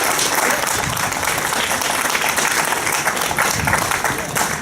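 Dense crowd applause rolls on at an outdoor drug-war protest rally, loud and continuous from start to finish with some cheering texture mixed into the clapping.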